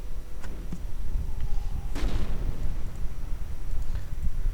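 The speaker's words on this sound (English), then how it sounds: "More mortar fire." Mortar fire booms in a World War II strategy game battle, muffled rumbling thuds over a constant low battlefield din, with one stronger blast near the middle and fainter impacts around it.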